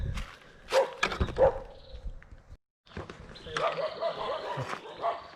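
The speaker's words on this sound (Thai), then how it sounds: "หมาเห่า" A dog barks a few times at a roadside rest stop during a road trip to Phetchabun, Thailand, mixed with people talking nearby and outdoor background noise.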